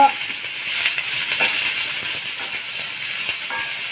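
Ghori kayi (cluster beans) fry in half a spoon of oil on a hot iron tawa, giving a steady close hiss and sizzle for the whole stretch, with faint stirring scrapes.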